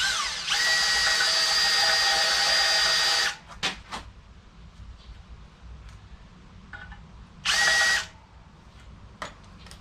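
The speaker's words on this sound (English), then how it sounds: "I'm going to chamfer that hole a little bit to make for a perfect fit." Power drill chamfering a hole in a spoked motorcycle rim, two loud high-pitched whirring bursts, one long and one short, separated by quieter handling clicks and knocks.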